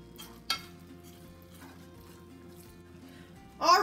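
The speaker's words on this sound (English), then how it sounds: "So now I'm going to fluff the rice." Seafood rice with vegetables is fluffed in a pan with a utensil, giving a soft scrape early on under a quiet sizzle. A louder burst of stirring and clatter follows at the end.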